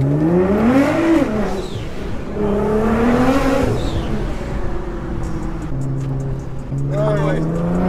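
A Nissan GT-R Stage 3 tuned past 700 hp pulls hard, its engine note rising through the revs and rumbling steadily, with people talking excitedly over it throughout.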